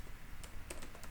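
Code being typed on a computer keyboard for a Laravel 8 tutorial, a few quick, soft, close keystrokes clicking in a short irregular run with no talking.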